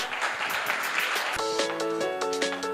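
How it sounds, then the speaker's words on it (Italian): Brief applause for a competitor at a coffee show in Syracuse, a short burst of clapping from a small crowd that gives way to a bright musical tone or jingle over the last half. "Accogliamolo con un applauso, il primo."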